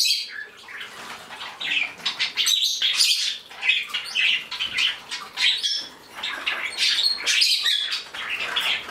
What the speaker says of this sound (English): all the other birds are in the cages, and I'm going to be letting out my Bourkes so that they can all meet